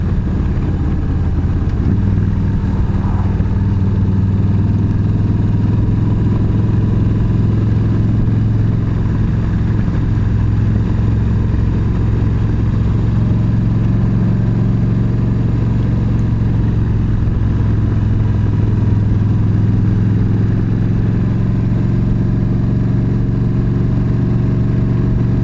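A motorcycle on a road trip drones with a steady loud engine hum and constant wind rush, cruising at an even pace with no pauses.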